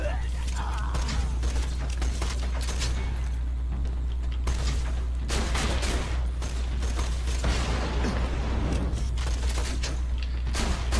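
Rapid bursts of gunfire from the video game Borderlands 2 crackle in dense volleys throughout, set over a constant low hum, with a player's voice talking over the shooting.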